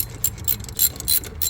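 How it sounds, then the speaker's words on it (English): A ratchet backing off brake caliper bolts on a second-generation Mazdaspeed 3, quick bursts of close, crisp metallic clicking repeated in a fast rhythm. "You go ahead and get your ratchet and get them all the way,"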